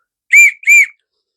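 Two short, high, piping toots from a small homemade wooden dowel whistle with a carved finger groove at the back, sounding close and clean in a quiet room.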